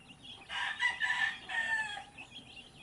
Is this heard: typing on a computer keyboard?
no